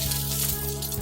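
Oil sizzling loudly in a hot pan, set for Japanese-style ginger pork, with a steady continuous hiss and crackle filling the short moment, close and alone without talk.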